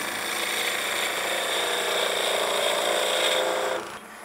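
A wood lathe turning a spindle between centres while a skew chisel makes a finishing cut, giving a steady whirring hiss with a bright cutting tone that stops near the end, leaving the lathe running quieter.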